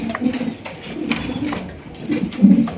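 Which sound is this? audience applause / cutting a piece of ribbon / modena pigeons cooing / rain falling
modena pigeons cooing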